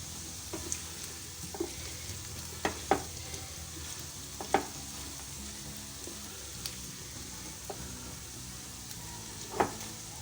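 Potatoes frying on high flame in a pan, a steady soft sizzle with a few scattered stirring scrapes and clicks, moderately near and without talk.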